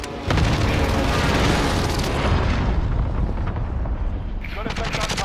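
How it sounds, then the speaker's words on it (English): Heavy airstrike explosions in a military video game: deep booming blasts and rumbling detonations roll continuously for several seconds, loud and close, with gunfire crackle and a voice speaking over the barrage. "Need an airstrike on my position now"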